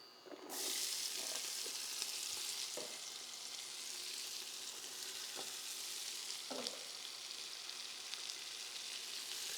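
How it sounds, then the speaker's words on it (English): Carrots, celery and onions sizzle steadily in hot bacon fat for a seafood chowder, a dense continuous frying hiss with a few soft stirring scrapes, close and alone. "And we're going to use the bacon fat in the pan, of course, to saute our vegetables."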